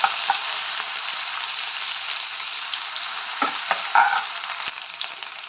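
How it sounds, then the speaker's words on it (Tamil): Two medium onions sizzle steadily in a hot pan for a Tamil pudhina sadham, frying with a constant crackle while a utensil scrapes and stirs them in a few brief clanks. "வெங்காயம் நல்லா கொஞ்சம் பொன்னிறமாக வதக்கலாம்."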